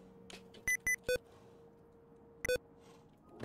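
Electronic beeps from the video game Kingdom Two Crowns, a few short tonal bleeps in quick pairs followed by another double beep, clear and isolated over a quiet background with no talking.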